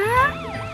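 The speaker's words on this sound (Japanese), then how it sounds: "大きなサイレンの音だよ。" Loud emergency siren from a police car in the children's animated series Car Patrol, on a patrol call through traffic, with a rising wail that gives way to a repeating warble, heard close and alone.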